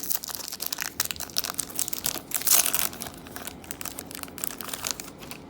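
A hockey trading card pack from an 18-19 Artifacts hobby box gets torn open, making close crinkling and ripping foil sounds in irregular bursts. One louder tear comes midway, and no one talks.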